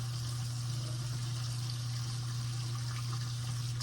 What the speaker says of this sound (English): Both taps on in the bathroom